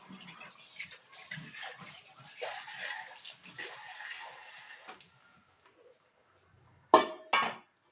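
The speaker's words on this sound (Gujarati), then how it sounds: "એટલે દૂધીની પ્યુરી છે એટલે જરૂર મુજબ આપણે પાણી ઉમેરશું" Water is poured into bottle gourd puree in a bowl while thepla dough is prepared, giving soft splashing and sloshing with light utensil clinks, then a pause and two sharp clattering knocks near the end.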